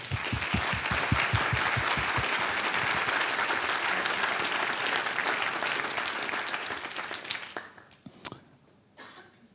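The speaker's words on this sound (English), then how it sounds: "I'm sure you'd all like to join me in thanking Pete for the very poignant interview and applauding Klas for his bravery" Audience applause following a music-industry keynote interview, steady dense clapping at full strength for about eight seconds before thinning out, with a few scattered claps and a cough at the end.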